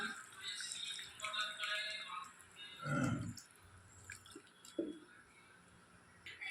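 Water splashes into a cooking pot of browned chicken curry, a brief gurgling pour in the middle, surrounded by faint kitchen clatter and drips.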